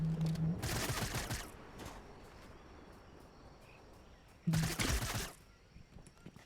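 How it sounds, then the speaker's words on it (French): Gunfire in the video game Fortnite: two loud bursts of rapid shots, one near the start and one around the middle, with quieter game ambience between them. "il y a un truc qui me tire dessus de puissance."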